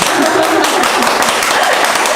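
A dense wash of close, loud applause from a gathered group fills the whole stretch without pause, steady and even from start to finish.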